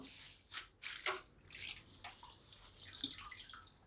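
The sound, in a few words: lifting curry leaves out of water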